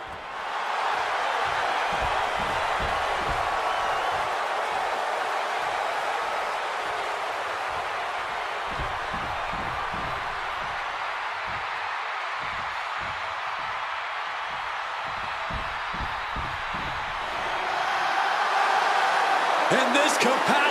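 A capacity arena crowd roars in WWE 2K26 during a CM Punk versus Seth Rollins match, a dense sustained cheer with rhythmic thumps and stomps beneath, swelling louder near the end.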